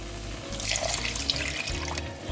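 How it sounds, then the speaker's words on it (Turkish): Milk pours into a pan for lasagna béchamel, made with flour already in the pan, as a steady, close liquid splashing and trickling that continues without pause and with no voices. "süt koyuyorum"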